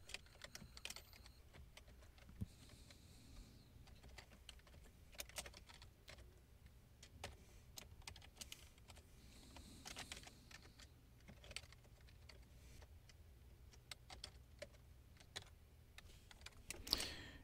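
Someone types code into a computer keyboard, producing a long run of quiet, irregular key clicks in bursts and pauses, recorded close by.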